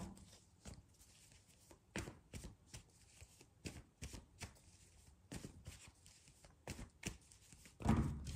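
Tarot cards shuffled and drawn, giving a series of soft, brief riffling and slapping sounds at an irregular rhythm, close and quiet, with a slightly louder rustle near the end.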